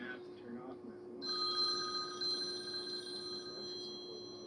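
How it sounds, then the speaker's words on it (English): A mobile phone ringtone starts about a second in and rings continuously with a bright tonal trill at moderate loudness, over a low steady hum, with a voice heard briefly before it begins. "Whose phone sounds like that?"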